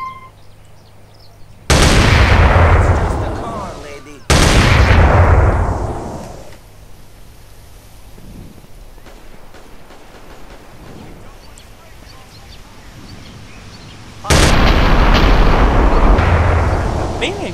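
Heavy gunshot blasts from modded large weapons in GTA San Andreas: two loud booming shots close together near the start, then a quieter stretch with faint sounds, and a third loud blast with a long decaying tail near the end.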